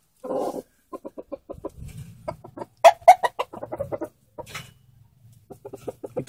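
Chickens cluck in short bursts of rapid, close clucks, with a few louder squawking calls and a soft low rustle between them.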